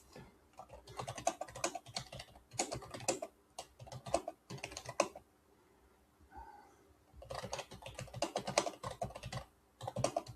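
Bursts of quick computer keyboard typing, close and crisp, come in clusters separated by brief pauses.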